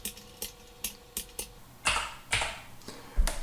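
Fingers type a course token on a computer keyboard: quiet, sparse key clicks with a few firmer taps, close and alone with no talk.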